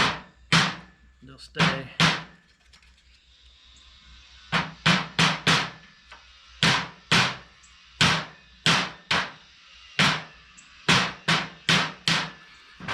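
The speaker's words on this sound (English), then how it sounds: "I can just beat them into place." Wooden pieces are hammered into a glued groove with a long series of sharp, loud knocks in uneven clusters. The knocks sound close by, and a brief spoken remark comes between the blows.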